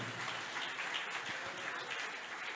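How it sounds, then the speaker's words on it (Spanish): A church congregation claps in praise, a dense steady wash of applause from many hands filling the room with no voices on top. "Dele fuerte ese aplauso al Señor"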